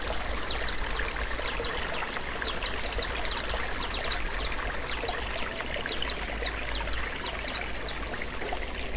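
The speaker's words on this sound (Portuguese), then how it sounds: "Água cristalina que desce da montanha." Clear water flows down a mountain slope in a rural hillside setting, a steady close rushing and trickling stream, with small birds chirping repeatedly above it.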